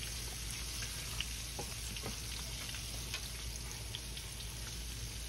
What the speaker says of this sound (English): I'm gonna get these browned off and I'll be back once I get them on the pan